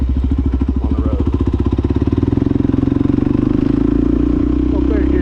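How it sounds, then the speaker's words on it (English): Suzuki DRZ400 SM supermoto with a Yoshimura exhaust pulls away in third gear at night, single-cylinder engine thumping close and loud, firing pulses quickening as revs climb, then holding a steady drone. "Little third gear takeoff, nothing the DR can't handle."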